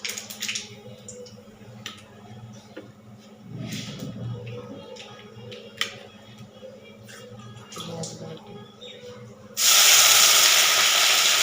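Nigella seeds hit hot oil for tempering, bursting into a loud, bright sizzle that abruptly swells near the end after quieter kitchen clatter and faint background voices.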